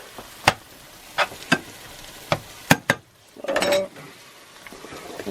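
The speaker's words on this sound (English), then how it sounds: "We're going to let those sizzle a minute more." Chicken livers fry in a pan for an omelet, giving a soft, steady sizzle. Sharp utensil clinks and scrapes against the pan break in several times, and a brief louder rustle of stirring follows.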